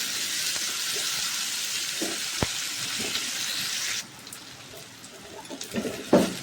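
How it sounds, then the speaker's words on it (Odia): Onions and tomatoes fry in a pan for baingan bharta, a steady loud sizzle that drops to a quieter crackle partway through, with occasional clinks and stirring near the end. "ଭଲ ଭାବେ ତାକୁ ପିଆଜ ସାଙ୍ଗରେ ଭାଜିଦେବା। ଟମାଟୋକୁ ପିଆଜ ହେଲା ପରେ ଟମାଟୋ ଦେବେ।"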